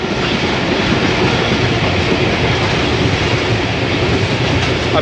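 Aboard the Ravi Express behind a ZCU-20 diesel locomotive, wheels rumble and clack over the rail joints in a loud, steady, close run with no pauses.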